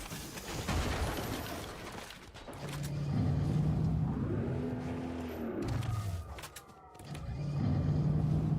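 A car driven in Fortnite, its engine loud and close, revving up and easing off in several swells with brief dips between, no voices over it.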